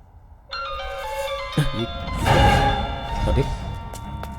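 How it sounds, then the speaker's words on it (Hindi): A phone ringtone plays a bright, repeating electronic melody, then is joined by a thump and muffled voices over the ringing. "भाई का फोन आ रहा है"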